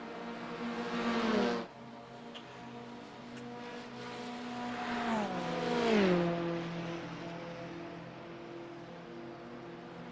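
McLaren sportscars battling on track in a pro-am race, their engines whining past in gliding pitch sweeps, one passing near around the middle before the sound fades to a steadier distant drone.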